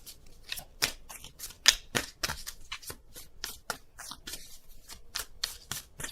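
Tarot cards are shuffled by hand in quick, uneven bursts of crisp riffling and slapping, close and fairly quiet, repeating steadily with short pauses between.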